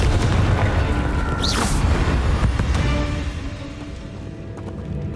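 A Confringo fire spell explodes in Hogwarts Legacy on Nintendo Switch: a heavy, booming blast with a rushing fiery roar that fills the first few seconds and then fades into a lingering low rumble, with no talking.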